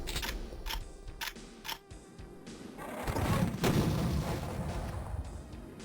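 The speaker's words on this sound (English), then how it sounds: "Got a turret there." An enemy turret in Duke Nukem 3D fires a few sharp, evenly spaced shots, then heavy mechanical rumbling and clanking gunfire build and hold loud through the rest of the moment.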